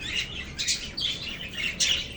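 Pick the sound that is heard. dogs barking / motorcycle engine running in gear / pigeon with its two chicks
pigeon with its two chicks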